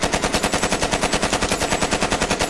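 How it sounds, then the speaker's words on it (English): The Vigilance Wing pulse rifle in Destiny 2 fires a rapid, evenly spaced string of loud, close gunshots, about a dozen sharp cracks per second in continuous bursts with no talk. "the Vigilance Wing is a 5-round burst with an exotic perk"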